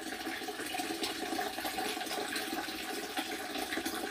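Water runs and splashes steadily at a bathroom sink as a face is washed, a continuous broadband rush that stays at an even level throughout without any talk.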